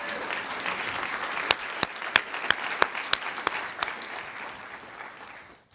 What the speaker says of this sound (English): Let's give up another round of applause for all of them.